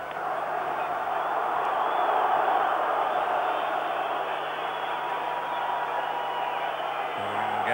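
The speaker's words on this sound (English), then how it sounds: "Crowd booing." Football stadium crowd at a Turkey versus England match, a steady dense roar of massed voices with booing, continuous and fairly loud throughout, with no distinct single voices standing out.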